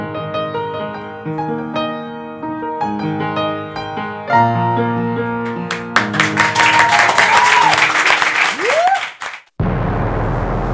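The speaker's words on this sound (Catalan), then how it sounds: "Fort aplaudiment per ella" A studio audience at a Catalan television show breaks into loud clapping and applause. It swells over bright, tonal music and then cuts off abruptly into a different sound.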